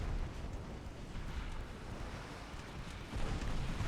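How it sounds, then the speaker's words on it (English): An early shell detonation in the naval warship game Ultimate Admiral Dreadnoughts, heard as a low, sustained rumbling roar with a slight swell near the end, steady and fairly faint without any talk. "Early detonation."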